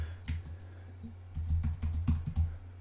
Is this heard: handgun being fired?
no